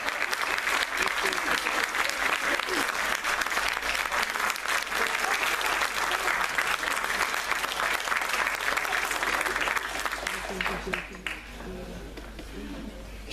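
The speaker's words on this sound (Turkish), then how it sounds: "Alkışlarımızı kesmiyoruz" Sustained audience applause at an opening ceremony, loud and dense clapping filling the hall for most of the clip before easing off near the end.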